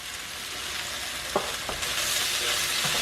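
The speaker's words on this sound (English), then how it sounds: "now we're going to add ginger and garlic" Chopped ginger and two cloves of garlic hitting hot oil in a soup pot, a steady loud sizzle with a couple of scraping stirs, the frying growing slightly brighter toward the end, with no voices.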